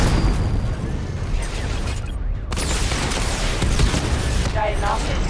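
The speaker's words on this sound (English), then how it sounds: "Missile barrage level 2 ready" Missile barrage explosions from the video game Batman Arkham Knight rumble and burst in a dense, loud wash of booms and pops that scarcely lets up, with a brief drop near the middle.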